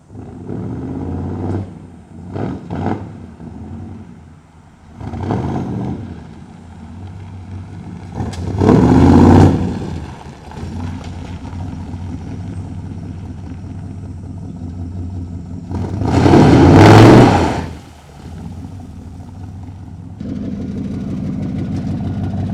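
A 350 V8 swapped into a 1951 Chevy 3100 pickup idles with a low rumble, then revs in two loud, swelling bursts separated by steadier running, ending in a settled idle.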